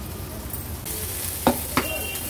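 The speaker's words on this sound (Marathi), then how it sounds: "हळद आणि मसाला तेलावर छान परतून घेतला आहे।" Turmeric and masala frying in hot oil for an Agri-Koli style crab curry, a steady close sizzle with two brief louder stirring scrapes partway through.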